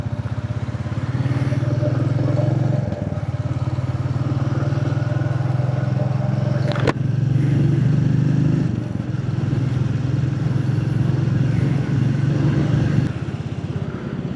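A motorcycle cruises along a highway between Kolkata and Siliguri, with a loud steady engine drone and wind rumble close up throughout and a brief clatter partway through.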